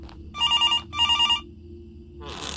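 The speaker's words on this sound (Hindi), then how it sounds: "फोन बजता है, फोन काम करता है, फोन इज वर्किंग।" An old-style telephone bell rings inside the horror video game Graveyard Shift: two loud, close bursts of rapid trilling ring, then quiet and a hissy noise near the end.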